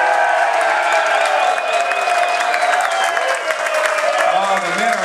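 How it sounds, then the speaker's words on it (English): Audience applause at a bartending contest aboard the Star Princess cruise ship: sustained clapping mixed with cheers and whoops from a room full of people, steady and fairly loud throughout. "That's a good round of applause."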